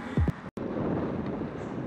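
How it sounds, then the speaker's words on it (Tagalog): Heavy wind buffets the microphone in a constant roaring rumble as rain falls, broken by a brief dropout near the start. "Ang lakas ng hangin"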